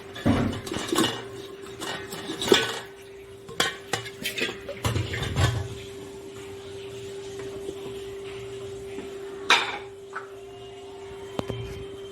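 Chunks of mutton clatter and thud into a metal pressure cooker pot, with scattered clinks and scrapes, then quieter handling and a few sharp knocks.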